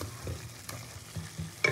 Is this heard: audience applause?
no